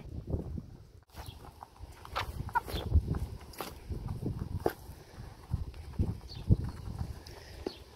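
Chickens cluck and scratch about at a quiet distance, with scattered soft pecking and shuffling sounds.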